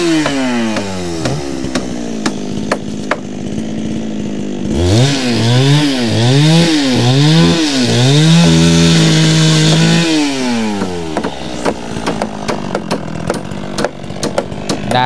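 A chainsaw cuts wood at a rural worksite, its engine loud and close: it idles, revs hard in repeated surging bursts while sawing, then settles back to a ragged idle, with no talking.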